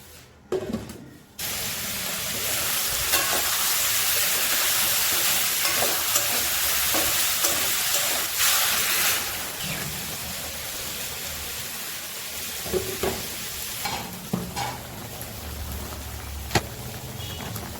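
A hot pan of taro with garlic paste, green chili paste, cumin and coriander powder hisses loudly as water hits it, then settles into a steady sizzle and bubbling simmer, with a few light stirring knocks near the end.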